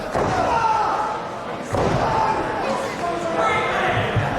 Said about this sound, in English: He's got that arm bar body slam, just slamming him on that injured arm